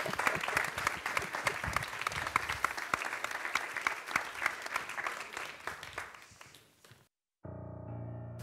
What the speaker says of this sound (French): allez, on applaudit beaucoup